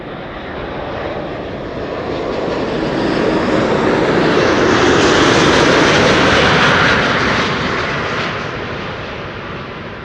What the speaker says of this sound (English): Smooth landing. Nicely done.